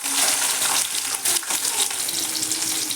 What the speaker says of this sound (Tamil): சின்ன வெங்காயம், பூண்டு ஒரு 2 பச்சை மிளகாய் எண்ணெயில் போட்டுடலாம்.